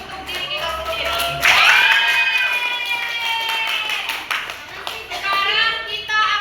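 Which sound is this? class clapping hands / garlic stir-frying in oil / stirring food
class clapping hands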